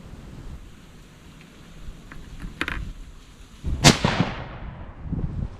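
A .25 Creedmoor rifle fired with RL16, RL17 or N555 powder loads, one sharp, loud shot cracking out and echoing away, with faint lighter pops earlier.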